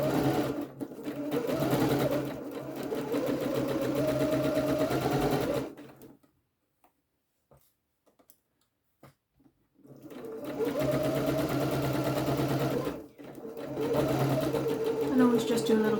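A sewing machine runs a standard straight stitch along a side seam with a French seam pocket, humming steadily in two long runs separated by a quiet pause with a few light clicks.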